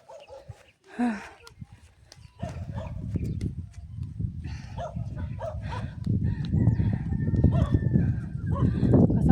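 A dog barks a few times nearby amid outdoor sounds on a mountaintop pineapple farm and background chatter, with other animal noises and rustling throughout.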